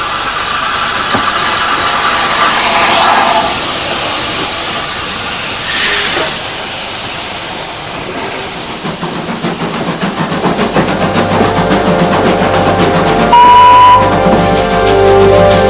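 Old steam train engine on the Sheffield Park line, a loud continuous rumble and hiss with a burst of steam early on, rolling rail noise building and a steady whistle-like tone near the end.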